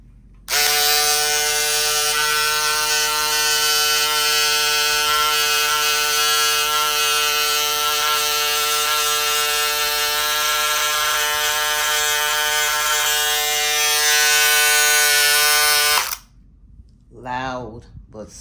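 Electric scissors cutting fabric give a loud, steady buzzing drone with a strong harmonic whine for about fifteen seconds, then stop abruptly, followed by a brief quieter rustle.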